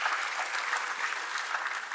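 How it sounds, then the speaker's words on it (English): An audience at the opening ceremony of an international conference in New Delhi claps for the president, a dense, loud, sustained round of applause with no break. "Clapping for our president."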